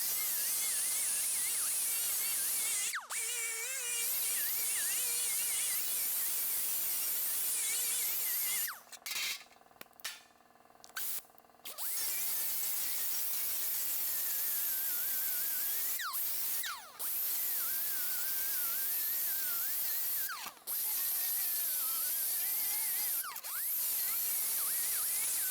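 A disc grinder works an aluminum weld at a grinder table, a continuous high, whining buzz with a few short pauses and restarts, close and steady throughout.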